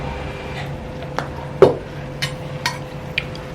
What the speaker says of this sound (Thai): เสร็จแล้วล่ะผัดกะเพรา ใส่พริกไทยลงไปค่ะ